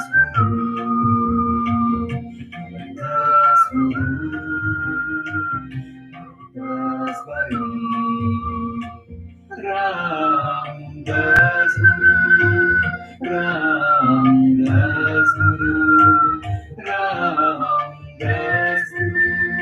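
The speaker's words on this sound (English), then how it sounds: "start whistling again for the final moments of the practice" A person whistles a slow, melodic tune of sustained notes and short phrases during the closing moments of a Kundalini yoga practice, close and clear with brief pauses between phrases.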